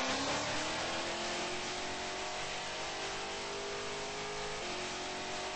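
Racing car engine revving steadily through a video game lap, a continuous loud drone with rising pitch as it accelerates and no talk over it.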